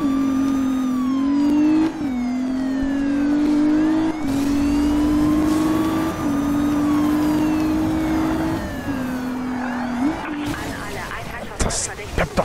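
Car engines roaring in the street-racing game Need for Speed Rivals, a loud, close engine note that climbs in pitch and drops back with each gear change, repeating several times, with voices talking over it.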